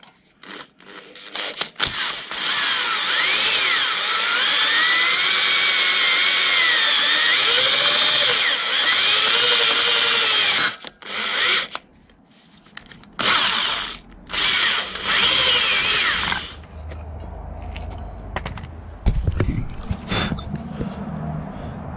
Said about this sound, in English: I've drilled a small pilot hole, the smallest you can get, and then just keep going up with drill sizes.